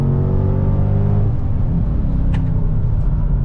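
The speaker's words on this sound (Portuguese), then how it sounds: "Eu vou dar uma pisadinha para sentir quão veloz é esse carro." Mercedes-Benz C63 AMG sedan with a 6.2 V8, Stage 2 tune, accelerating hard in Sport mode: a loud, close engine roar rises through the revs, then a brief drop at the gear change as the rumble carries on with no talk.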